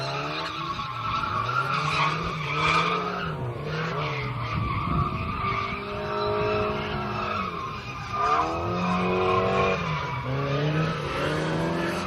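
Drift cars at a drifting championship, their tires squealing in long sustained skids while engines rise and fall in pitch, loud and continuous throughout.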